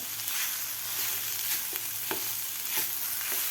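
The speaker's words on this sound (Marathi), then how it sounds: "अशा प्रकारे आता व्यवस्थित आपल्याला हे मिक्स करून घ्यायचं आहे बटाटे घातल्यानंतर" Fried potatoes for potato thecha are stirred in a hot pan, producing a quiet, even sizzle with light scraping clicks from the stirring, steady and alone without voices.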